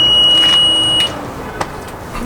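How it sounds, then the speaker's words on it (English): A foam system alarm on a Pierce fire apparatus gives a bright electronic chirp, loud and held for about a second, then falls away to a quiet background hum with a faint click and no talk. "Every 45 seconds it'll chirp just to let you know it's still there."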